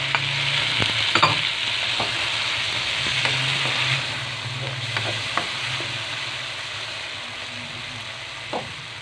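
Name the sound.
tomatoes frying and being stirred for tahong Bicol express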